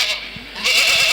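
A goat bleats in a short, nasal cry outdoors in a village setting, close and fairly loud over a steady background hiss.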